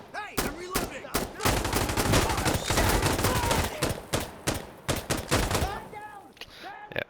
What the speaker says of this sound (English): And now Blue's just spraying into the smoke. His M110.